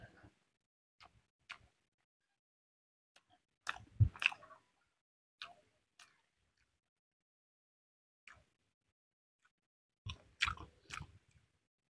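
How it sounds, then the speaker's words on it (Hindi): Someone chews a big bite of foil-wrapped cooked chicken with a garlic clove, giving close, quiet wet crunches and bites in scattered bursts over near silence. "लहसुन का एक कली उठाते हैं और ये पूरा का पूरा बड़ा सा बाइट।"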